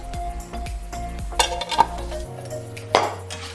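A utensil clinks and scrapes against a pot as meatball sauce is stirred and left to stew, with several sharp metallic knocks over a low simmering hum.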